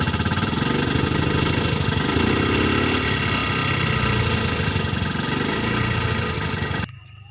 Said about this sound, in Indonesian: Jadi ini adalah suara mesin motor.